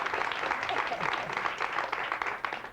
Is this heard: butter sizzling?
no